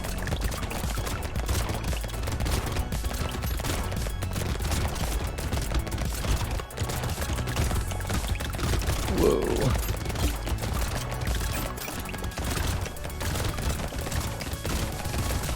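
Constant loud laser-gun fire against hordes of enemies in the video game Brotato, a dense mechanical clatter layered with game music and barely any speech.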